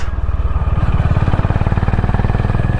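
Honda CB 350 Highness motorcycle engine pulling under load while riding a ghat section, a loud close rhythmic thumping exhaust pulse with steady low drone.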